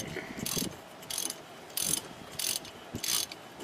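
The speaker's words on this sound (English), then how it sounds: "It takes you just a few seconds to run one of these thread cleaners all the way down and all the way out" A thread cleaner is run along rusty sidecar wheel studs, giving four or five short bursts of metallic scraping and ratcheting, close and moderately loud, with quieter gaps between the strokes.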